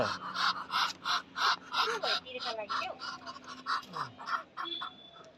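Repeated nasal quacking calls from Chinese ducks, fairly close, in uneven bursts, with people talking and a bird call mixed in.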